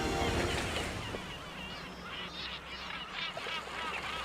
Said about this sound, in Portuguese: As gaivotas e os moleiros aproveitam o peixe que os outros desperdiçam.